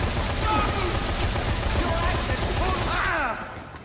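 Assault rifle fire in the video game Dead Rising 3 rattles in a continuous dense burst for about three seconds, loud and close, with voices talking over it before it cuts off.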